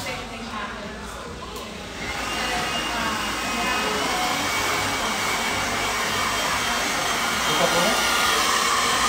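Hair dryer blowing steadily while drying a short bob haircut, a loud continuous whooshing roar that grows stronger after the first two seconds, with faint talk underneath.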